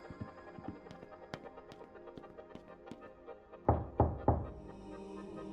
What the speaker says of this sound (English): We take a knock on his bedroom door, and there's no answer